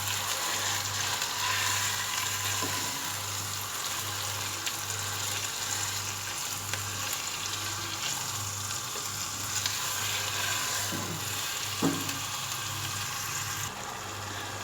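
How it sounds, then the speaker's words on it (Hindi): Chicken frying with ginger garlic paste in a hot pan, a dense continuous sizzle close up with a few faint clinks of stirring and a steady low hum underneath. "अब इस चिकन को हम अच्छी तरह भुनाई करेंगे"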